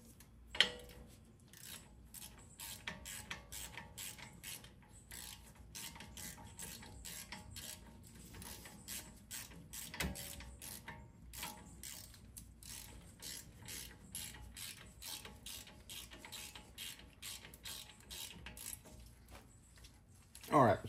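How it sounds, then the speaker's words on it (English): A 1/4-inch ratchet tightens a part during a Mercedes C63 brake upgrade, with quick, faint, steady clicking repeated throughout against low workshop background. "I'm using a 1/4-inch ratchet to put it in with."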